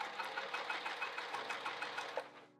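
A sewing machine runs steadily, stitching the seam allowance of a cover, its needle rhythm chattering at close range for about two seconds before it slows and stops.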